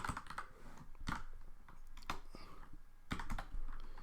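Rapid, close keystrokes clatter on a computer keyboard as a password is typed in a Python script, a quick irregular run of clicks with no talking.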